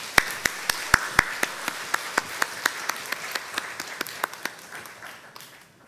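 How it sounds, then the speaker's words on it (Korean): A church congregation at a Sunday service gives a short round of applause for course graduates: sharp, evenly spaced claps that lead off loud and close, then fade into softer, scattered clapping that thins out. "다 같이 한번 박수로 한번 맞아주시기 바랍니다"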